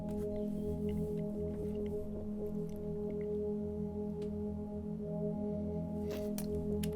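A looped chord sample, filtered down into a dark, muffled drone, hums low and steady throughout at a quiet level, with faint higher flecks scattered over it and no speech.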